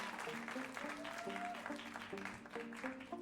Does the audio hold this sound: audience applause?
yes